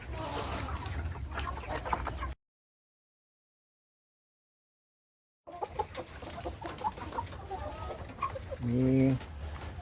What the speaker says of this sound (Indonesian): adalah ayam kampung KUB, ayam KUB yang dikonsep untuk jadi petelur.